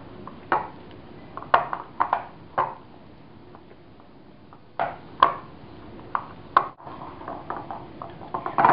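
Ghevar batter of all-purpose flour, gram flour and milk is stirred in a bowl, with irregular spoon clinks and taps against the side, close and fairly crisp, no voices.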